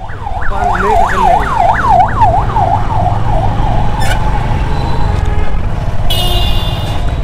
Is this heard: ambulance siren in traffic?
yes